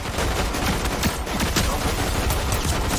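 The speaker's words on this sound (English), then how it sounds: "that shotgun looked like it hurt, bro" Video game gunfight with shotgun fire, a loud, dense burst of rapid overlapping shots and blasts.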